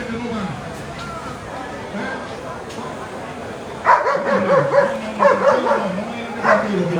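A dog barks and yips in bursts amid a chaotic scene after a building collapse in the Dominican Republic, with a crowd's babble and voices talking throughout; the barking grows louder midway through.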